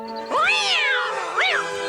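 Two loud, close cat meows, a long rising-and-falling cry followed by a shorter one, in an animated Peter Rabbit film, with no talk over them.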